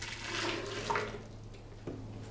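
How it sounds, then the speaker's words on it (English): Nut milk pours back into a container in a kitchen, a soft continuous liquid splash rising and tapering over about two seconds. "So what I'm going to do is pour this back in here."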